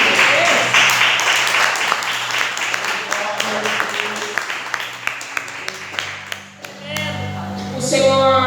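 A church congregation claps to honor Jesus, sharp individual claps and a crowd patter over a sustained musical tone, thinning out and dipping before voices and sound pick up again at the end.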